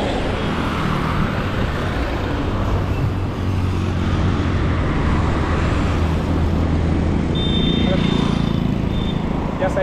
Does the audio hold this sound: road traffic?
yes